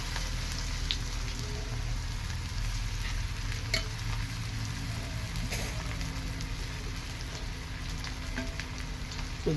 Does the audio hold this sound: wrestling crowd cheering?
no